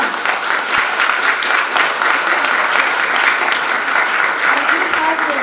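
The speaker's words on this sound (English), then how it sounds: "We can give everybody a round of applause." Audience at a retirement village all-staff meeting in Dallas applauds, steady dense clapping filling the room for several seconds, loud and close with no break.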